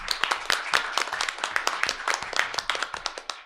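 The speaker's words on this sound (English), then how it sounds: "If we can give her a round of applause." A small group at a school board meeting claps for a high school teacher, the sparse individual hand claps sharp and uneven, ringing fairly close with no voices.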